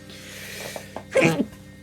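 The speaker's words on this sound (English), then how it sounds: "I'm gonna sneeze." A person sneezes once, loudly and close, after a few soft breaths and small throat sounds, leaving quiet room tone behind.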